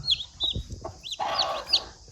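Naked neck chicks cluck and chirp in short, close calls, a few sharp high notes scattered over soft low rustling.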